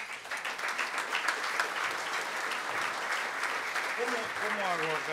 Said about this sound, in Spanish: Recibimos con un fuerte aplauso a Juan Salgado.